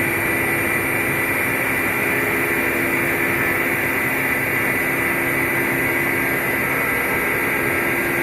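A log splitter driven by two washing machine motors runs at speed, giving a steady, loud, unbroken mechanical whine and hum at constant pitch.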